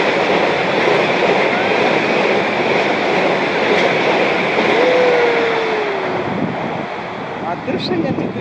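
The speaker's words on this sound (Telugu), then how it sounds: "అదిగో ఒకటి వస్తుంది వస్తుంది వందే భారత్ అంట" A Vande Bharat express train passes close by, its steady loud rolling rumble of wheels and carriages filling the air, with a brief rising tone partway through and a faint voice near the end.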